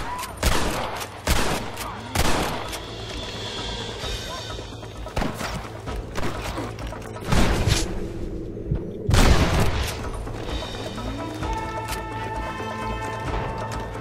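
Gunfire in the video game Red Dead Redemption 2 cracks out as several loud, widely spaced shots over a layered, rumbling game soundscape.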